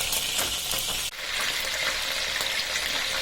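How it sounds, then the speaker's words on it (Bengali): Tilapia fish frying in hot oil in a wok, a dense, steady sizzle and crackle with a brief dip partway through before the loud frying resumes, close and alone without voices. "কিছু মাছ দিয়ে দিছি তেলে ভাজার জন্য"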